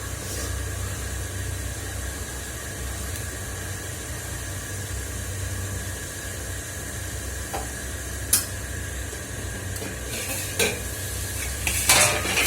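Masala fries in a pan on a gas stove with a constant low sizzle and stirring hiss, then a few sharp spoon clinks against the pan near the end.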